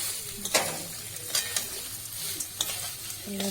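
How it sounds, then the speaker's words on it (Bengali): Rice being stirred together with vegetables in a hot pan for Bengali-style fried rice, with sporadic scraping clinks of the spatula over a soft steady sizzle. "ভাতের সাথে এগুলোকে সবজিগুলোকে ভালো করে মিক্স করে নেব আমি"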